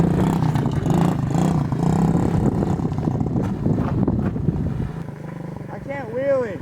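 Pit bikes ridden in the desert beside a canal, their small engines droning loud and close with revving surges throughout, and a rising whine near the end, while people talk over it.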